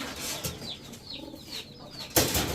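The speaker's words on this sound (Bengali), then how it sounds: "এইসব হচ্ছে ইম্পোর্টেড কবুতর" Imported pigeons, including Danish fancy breeds, cooing softly at close range with brief wing flaps and a sharper flutter near the end, under light background noise.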